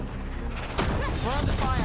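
Cannon gunfire bursts in the video game Dragon Age: The Veilguard, a sudden loud volley erupting after a quieter stretch, with voices talking over the shots.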